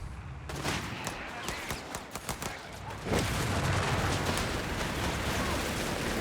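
Heavy mortar fire in a Company of Heroes 3 match, with scattered blasts and crackling gunfire at first, then a dense, loud roar of explosions and shelling from about halfway through.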